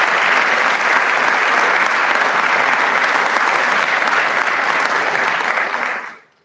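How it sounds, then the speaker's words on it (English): A large lecture audience at Wofford College gives a sustained round of applause for Senator Josh Kimbrell, dense even clapping for about six seconds before it quickly dies away. "You can give them all a round of applause."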